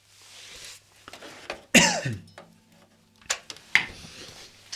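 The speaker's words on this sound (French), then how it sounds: "Pourquoi je tousse, moi?" A sharp cough followed by a few quieter throat-clearing sounds, close up in a quiet room.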